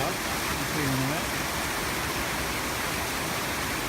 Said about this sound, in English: Just passing an amazing waterfall, it goes all the way up